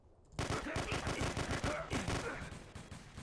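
Rapid gunfire from the multiplayer video game The Hidden: Source, a dense volley of repeated shots with fast automatic bursts, loud and close, fading slightly toward the end.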